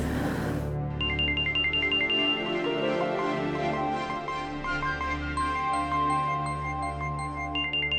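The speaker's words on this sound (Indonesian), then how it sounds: "Sebentar, maaf saya ada telepon." A phone ringtone plays loudly and steadily for about seven seconds, a repeating electronic melody of bright tones that keeps looping with no voices over it.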